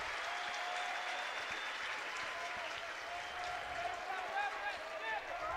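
Fans applauding at a college baseball game in Oxford on graduation weekend, a sustained, even wash of clapping from a sizable crowd with scattered cheers, while a commentator talks over it.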